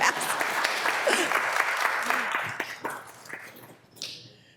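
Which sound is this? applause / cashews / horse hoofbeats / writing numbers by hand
applause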